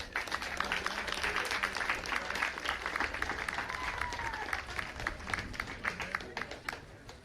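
A crowd applauds a fastpitch softball team, steady clapping from a group of spectators heard from a distance, fairly faint and continuous, with a few voices mixed in.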